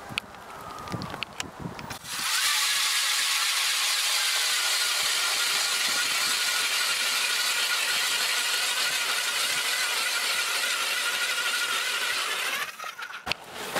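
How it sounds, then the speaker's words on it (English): An ION electric ice auger drills a hole through ice with a sustained, steady whir and grinding hiss that starts abruptly after a few seconds of handling noise and runs unbroken for about ten seconds before cutting off. "So I'm gonna go ahead and drill a hole and I'll show you guys how well it works, how quick it drills."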